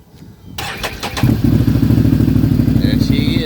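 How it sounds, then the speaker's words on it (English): A 2020 Can-Am Outlander XMR 1000 Max ATV starts with a few cranking clatters, then catches and settles into a loud, throaty, rumbling idle from the exhaust, close by. "let's fire this bad boy up. I want to let you hear this exhaust."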